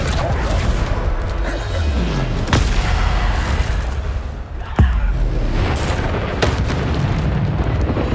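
Bombarda blasting spells from the video game Hogwarts Legacy go off as two sharp booming blasts amid a constant roar of battle effects and rumble.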